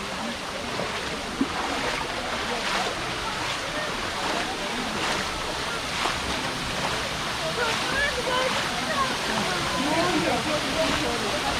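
The Gizlikent waterfall in Fethiye, Muğla pours from about 15–20 metres as a steady, dense roar of rushing water that fills the whole scene and stays constant throughout.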